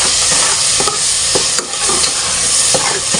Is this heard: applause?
no